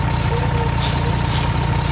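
A Cummins N14 truck engine idles in American Truck Simulator, a loud, steady, deep diesel rumble with a faint whine on top, continuous and without talk.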